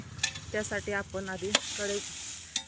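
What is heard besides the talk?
dry roasting red chillies with salt in a pot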